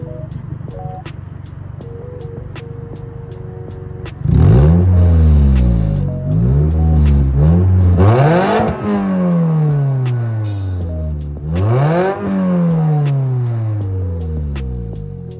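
A Scion tC idles with a deep burble, then revs hard several times with a raspy, droning aftermarket Spec-D exhaust, each rev rising and falling back.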